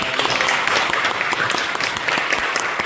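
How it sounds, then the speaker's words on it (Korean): A church congregation at a Sunday worship service applauds in a dense, continuous wash of clapping that carries on without pause for a few seconds. "우리 한번 박수를 한번 하겠습니다."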